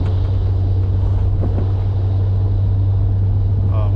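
A 1972 Oldsmobile Cutlass Supreme convertible cruising on a cool day, its engine a steady, loud low rumble with constant road and wind noise close by.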